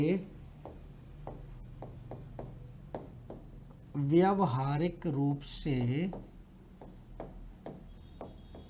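Chalk or marker scratches on a classroom board in quick repeated strokes throughout, while someone speaks Hindi over the middle part.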